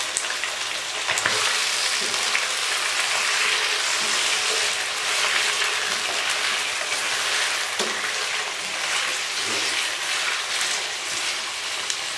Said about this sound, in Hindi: ऑयल हमारा गर्म हो गया, तो सबसे पहले हम इसमें ये चिकन डाल देंगे।